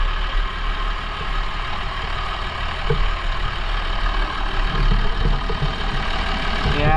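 A 12 valve Cummins diesel runs steadily just after a cold start, a loud, close, continuous low rumbling idle that holds for the whole stretch without speech.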